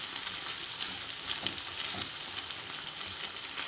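Bhorta mash ingredients fry in oil with onion and salt in a pan, a close, steady sizzle with light crackling and occasional stirring taps.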